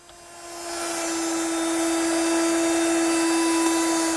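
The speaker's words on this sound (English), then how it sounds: "I'll do that using my router with a chamfering bit" A router with a chamfering bit cutting the edge of an oak piece, spinning up, then holding a loud steady high-pitched whine with no speech.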